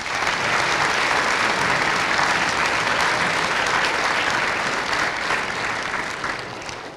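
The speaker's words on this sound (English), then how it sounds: "And so if we can give them all of a round of applause." A school audience claps for local business owners and school staff who came out in support, a dense, steady ovation that holds strong for most of the stretch before easing slightly toward the end.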